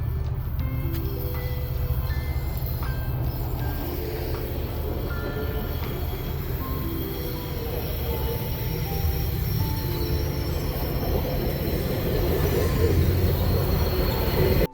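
A West Coast Express commuter train in Vancouver runs steadily and loudly close by, with a constant rumble, rattling car noise and repeated wheel squeals throughout.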